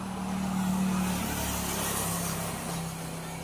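The engine of a fire-damaged vehicle runs steadily with a loud, even droning hum that holds for the whole stretch without pause.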